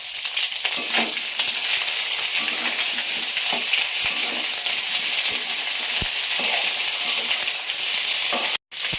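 Dried red chilli paste frying in hot oil gives a steady, loud sizzle with scattered clinks and scrapes of stirring, running almost without a break apart from one brief drop near the end.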